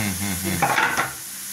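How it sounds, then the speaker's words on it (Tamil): A tomato paste sizzles while it is sautéed in a pan, and a spoon stirs through it in a short burst of scraping near the middle of the moment. "இது ஒரு சிகப்பு கலர்ல வர்ற வரைக்கும் நல்லா வதங்கட்டும்."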